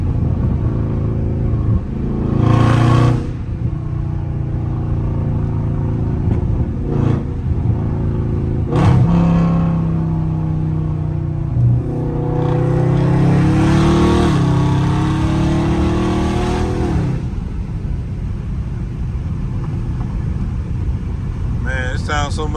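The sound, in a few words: catless Dodge Scat Pack car doing loud fly-bys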